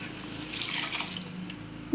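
Cornflour slurry pours steadily into a boiling pot of chapati kurma, a soft continuous trickling with faint splashing, close by and with no talking.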